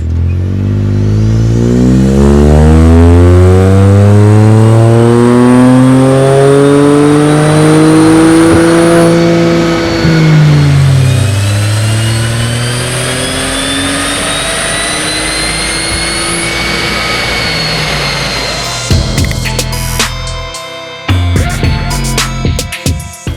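A Stage 3 tuned N Line car on a dyno revs hard and loud, its engine note climbing in a long rising pull. It eases off and then ends in rough, crackling bursts.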